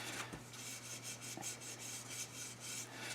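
Quiet, steady scratching of sandpaper worked back and forth over a large maple wood vase in a brisk, repeated rhythm, close by with no voices.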